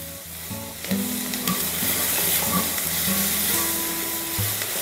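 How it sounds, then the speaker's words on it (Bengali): Kadai paneer vegetables sizzling and being tossed in a pan on high flame, a steady loud hiss with scraping stir sounds throughout, no talking. "হাই ফ্লেমে এটাকে টস করতে হবে যাতে সবজিগুলোর ক্রাঞ্চি ভাবটা বজায় থাকে"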